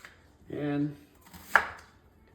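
Sweet onions chopped with a knife on a cutting board for a hot and sour soup: a single crisp chop rings out near and clear after a brief tonal scrape, with quiet room sound around it.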